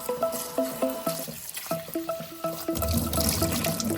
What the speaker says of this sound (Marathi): आता आपण हे स्वच्छ धुवून घेऊ